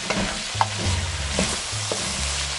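Bell pepper fries in a pan, a constant close hiss of sizzling with occasional low scraping of stirring, fairly loud and with no talking.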